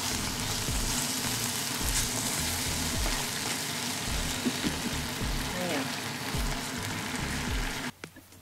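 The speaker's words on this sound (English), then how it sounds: "Cook it off over low heat until it starts to thicken" A thickening sauce for a Japanese home-style dish cooks over low heat, with a constant close sizzle, soft scraping stirs and a faint voice in the background, before dropping off abruptly at the end.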